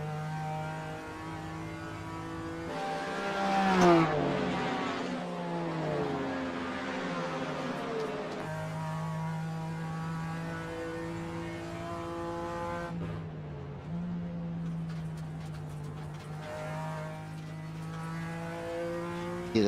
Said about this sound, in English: Hear the throttle work.